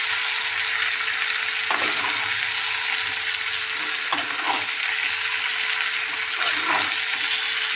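Green jackfruit pieces sizzle and fry steadily in a pan for a vegetarian curry, with a few scraping stirs of a spatula breaking through the continuous hiss.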